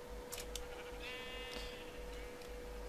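Colourful sheep in the Minecraft video game give a few short, faint bleats, one slightly longer and wavering, over a steady low hum and background noise.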